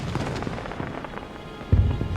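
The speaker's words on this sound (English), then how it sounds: "Looks like somebody bought out all the Weasleys' wildfire whiz-bangs." Weasleys' Wildfire Whiz-Bang fireworks go off in a Harry Potter video game, a scatter of distant crackling pops ending in one louder, closer boom.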